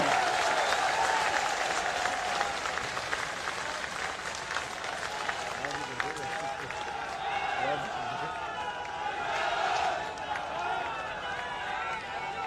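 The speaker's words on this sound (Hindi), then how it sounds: "उसके लिए जोरदार तालियों से स्वागत नहीं होना चाहिए?" Loud, sustained applause from a large crowd at a public event in Jaipur welcomes a speaker. Dense clapping continues without a break, with cheering and shouts rising through it.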